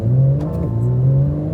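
A Porsche 911 GT3 RS engine pulls under moderate throttle, a loud, steady mechanical drone heard from inside the car with a brief dip in pitch midway.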